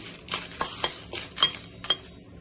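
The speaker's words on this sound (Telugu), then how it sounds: "కళాయి పెట్టేశాను దానిలో ఎండుమిర్చి వేసానండి" Dry red chillies toasted in a bare kadai with no oil, for a dried prawn and egg fry, get stirred in about six distinct strokes. Each stroke brings a crisp scrape and a light metallic clink, heard close and alone.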